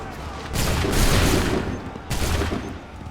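Musket volley fired on command in the video game Assassin's Creed 3: two loud, booming bursts of massed gunfire, the first rolling for about a second and a half, the second shorter, with no talk over them.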